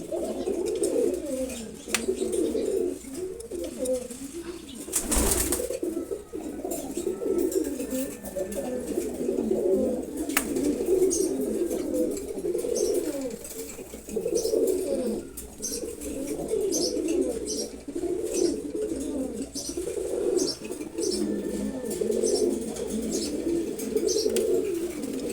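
A pair of racing pigeons coo continuously and up close, with overlapping throaty rolling calls and a brief rustle partway through, in a steady, fairly loud chorus with no talking.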